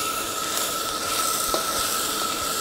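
Fried rice ingredients sizzle steadily in a wok on an outdoor cooker while being stirred, a constant close hiss with faint scraping and no talking.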